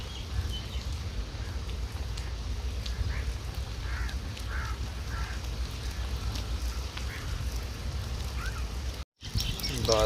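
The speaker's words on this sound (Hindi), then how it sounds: "बारिश भी काफ़ी तेज़ हो रही है।" Dense, steady hiss of heavy rain with strong wind pouring down on a Punjab village, with faint bird calls scattered in the background.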